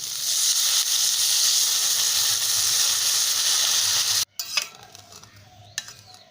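Water poured onto potatoes frying with spices for a drumstick-flower ghonto sets off a loud, steady sizzling hiss that cuts off abruptly, followed by a few close spoon clinks and stirring scrapes.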